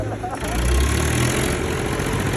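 A 4x4 tractor engine idles with a low, steady rumble, while voices talk over it.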